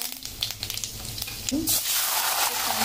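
Curry leaves hit hot tempering oil with mustard seeds and cumin, and a loud, close sizzle bursts up midway and keeps crackling steadily to the end.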